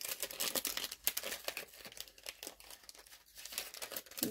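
Stickers are peeled off and cleared away while a card is being crafted, giving crinkly tearing and rustling bursts, close up and uneven, with no voices.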